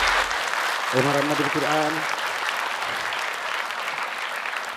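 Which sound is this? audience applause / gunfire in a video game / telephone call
audience applause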